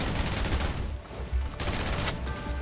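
Gunfire from the video game Snowbreak: rapid, continuous automatic bursts, loud and close throughout with brief shifts in intensity.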